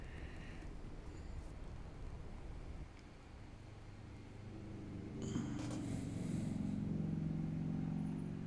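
Kenworth truck driving in the early morning, a low steady engine rumble heard from inside the cab that swells slightly as it picks up, with faint rattles over the top.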